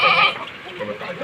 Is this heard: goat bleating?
yes